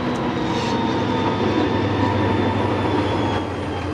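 Great Northern 325, a rare SDP40 diesel locomotive built in 1966, rolling on the rails: a loud, continuous low rumble with steady engine drone and a faint high wheel whine, close by and with no talk.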